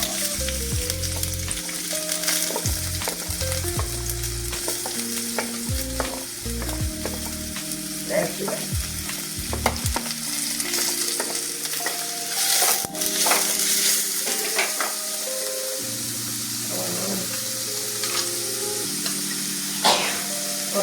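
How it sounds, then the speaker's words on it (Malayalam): Onions frying in hot oil for an egg curry, a steady close sizzle with scattered crackles and stirring scrapes running continuously, with a low musical tone underneath throughout. "ചൂടായി സവാള ഇട്ടു"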